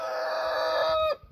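A blue cuckoo-patterned Brahma rooster crows once in a single long, strained, nasal call that ends abruptly, fairly close in a quiet henhouse.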